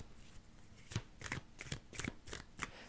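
Tarot cards being shuffled by hand, a series of six or seven quick crisp riffling bursts in an uneven rhythm, close and fairly quiet, with no talking.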